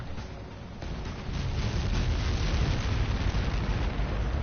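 A massive explosion in the combat flight video game Ace Combat 7, a dense roaring rumble that swells after a second and holds loud and sustained, with no talk over it.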